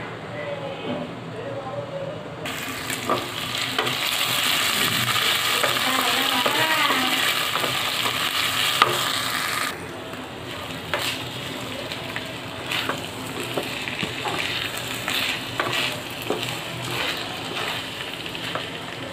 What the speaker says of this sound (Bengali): আমি পোলার চালটা ভেজে নিচ্ছি।